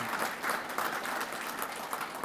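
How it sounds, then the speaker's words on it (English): Applause from an audience at a military change of command ceremony, a dense steady wash of clapping that holds loud and even throughout. "One more round of applause for that"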